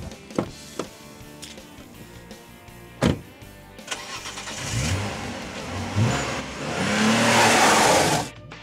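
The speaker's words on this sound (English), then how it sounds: "The lovely little runaround engine has been replaced by some throbbing great V6." A 2001 hatchback fitted with a V6 engine starts and revs hard, with sharp bursts and rising throaty acceleration building to a loud sustained roar up close.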